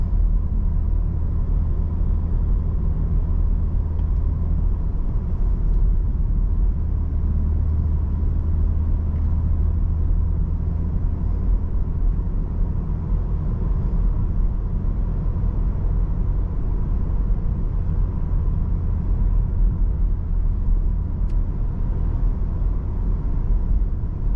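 A 2023 BMW G80 M3 Competition xDrive driving in sport mode, its engine and road noise forming a steady, loud low rumble that holds evenly throughout from the driver's seat.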